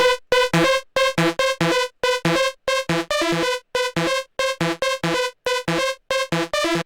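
A heavily distorted saw synth lead plays a fast, choppy rhythmic pattern of short, buzzy stabs with sharp gaps between notes.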